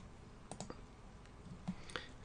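A few soft computer mouse clicks sound close and faint in a quiet room, spaced irregularly over a couple of seconds.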